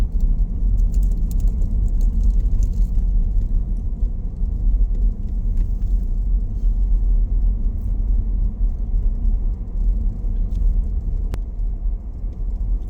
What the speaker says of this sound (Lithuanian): Čia dar ir kažkoks tramvajas važiuoja.